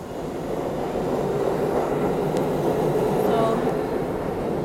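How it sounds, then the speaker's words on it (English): A New York subway 2 train rumbles into Penn Station, a loud continuous low roar of wheels and motors with faint squeals, filling the underground platform without pause. "waiting for the 2 train and it's here."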